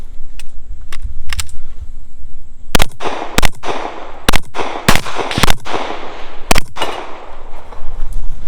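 Several sharp pistol gunshots crack out at a practical shooting competition stage, loud and close, spaced irregularly with a quick pair and trailing single shots over a steady background hum.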